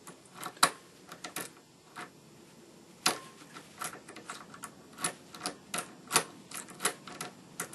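A lock is opened slowly with a rake key, making a run of sharp, irregular metallic clicks and ticks up close. The clicks are quiet, with no talking.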